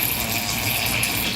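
Cooling water runs steadily through the tubing of a VEVOR essential oil distillation kit, making a loud, constant rushing gush close by with no pauses.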